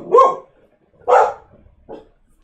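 A dog barks three times in a comedy film scene, two loud close barks a second apart followed by a shorter, softer one, with no talking over it.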